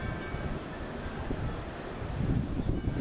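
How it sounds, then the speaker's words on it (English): Continuous wind buffeting a microphone, a low rumbling roar that swells slightly toward the end, with no voices. "it's really, really windy out here"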